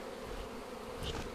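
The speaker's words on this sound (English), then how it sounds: "I like to shake the bees off first, get a majority of the bees off the frames" Honey bees swarm and buzz over frames pulled from a beehive during a honey harvest, a dense steady hum filling the clip at close range with no talk.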